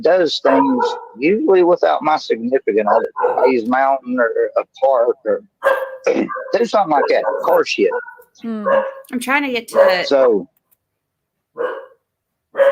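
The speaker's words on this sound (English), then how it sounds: "Sorry about the dogs barking" Dogs bark in the background of a home setting while a person talks almost constantly over them, with the yips and barks mostly buried under the voice.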